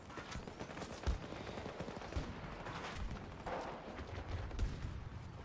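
Rapid automatic gunfire from a Battlefield 2042 match crackles steadily throughout, with a few sharper, louder shots standing out over dense, continuous battle noise.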